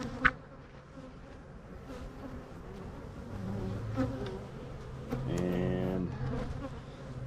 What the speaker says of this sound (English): we're gonna shake the bejesus out of some bees out of here